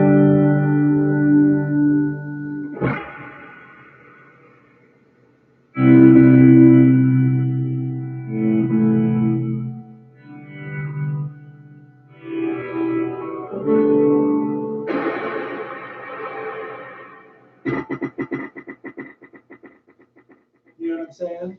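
An electric guitar played through an effects pedal rings out in heavily processed, reverberant chords and notes, swelling and smearing together in separate phrases with short gaps between them.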